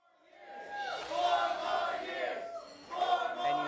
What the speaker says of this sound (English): you hear the crowd chanting 4 more years